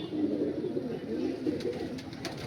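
An Andhra pigeon, a male, coos in low repeated rumbles close by, with a few soft clicks and rustles mixed in and no speech over it.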